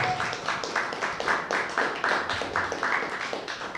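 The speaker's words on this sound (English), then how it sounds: "Let's do one huge round of applause for Irene Cooper for coming out tonight." An audience at a poetry reading claps for poet Irene Cooper, a steady, fairly soft round of applause from a small room that continues evenly for several seconds.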